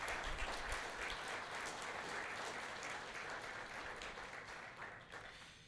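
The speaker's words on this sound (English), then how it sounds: "if we can just give them a round of applause" A meeting audience gives a round of applause, a broad wash of many hands clapping at an even level throughout, slowly easing off toward the close.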